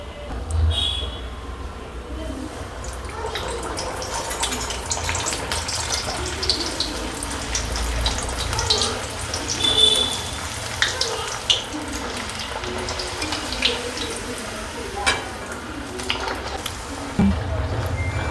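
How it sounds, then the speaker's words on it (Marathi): Methi puri frying in hot oil, a steady fizzing, crackling sizzle that runs the whole time with occasional louder pops, under someone talking. "मी आता तळून घेते।"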